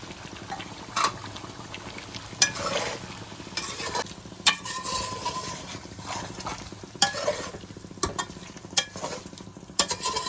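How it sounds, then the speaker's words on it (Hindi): Mutton pieces for aloo gosht fry in a pan with salt, chili powder, turmeric and coriander powder, a continuous sizzle broken by sharp metallic scrapes and knocks of the stirring spoon at irregular intervals. "स्पाइसेस के साथ इसे अच्छी तरह भून लेते हैं"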